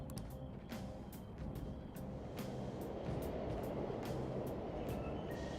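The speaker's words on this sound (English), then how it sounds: "Oh, it's the Hell Train." A subway train in the Persona 5 Royal video game rumbles steadily through a tunnel, a dense low roar with repeated sharp metallic clicks and clatters over several seconds, no voices.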